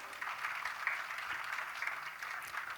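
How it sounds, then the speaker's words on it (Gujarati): An audience at a religious talk claps together in a steady, even patter heard from a slight distance and moderately quiet throughout. "હવે તાળીઓ પાડો તમારા માટે"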